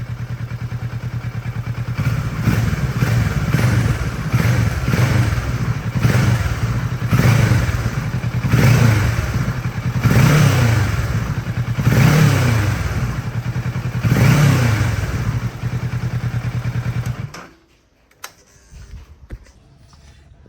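A Kawasaki Versys 650 motorcycle engine idles after four years in storage with stale fuel, a loud close rumble that surges in regular waves of revving before abruptly cutting off near the end.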